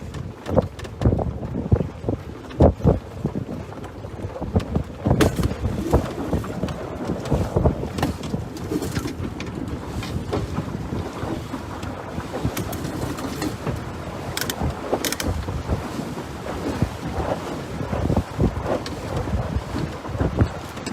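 A small sailboat runs downwind in a stiff wind, with loud, gusty wind buffeting the microphone, rushing water against the hull and occasional sharp knocks, continuous and close throughout.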